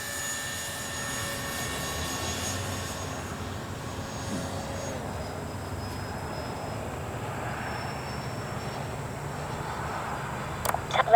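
A Freewing twin 70mm AL-37 RC jet on approach, its ducted-fan engines making a steady whine and whoosh that holds throughout, with a few sharp clicks near the end.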